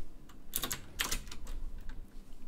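Rapid clicks of a computer keyboard as code is typed in two quick bursts, near and fairly quiet over a soft room hiss, with no voice.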